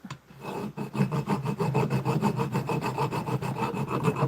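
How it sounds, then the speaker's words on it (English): Hand file rasping into the corners of a 12mm slot in a metal part for a QS273 e-bike hub motor, steady back-and-forth strokes in a quick even rhythm, close and continuous with no talk. "So working the file into the corners here."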